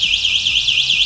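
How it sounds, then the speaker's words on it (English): An electronic e-scooter immobilizer alarm gives a loud, rapidly warbling high-pitched siren tone that cycles up and down several times, close and alone. "the alarm sounds"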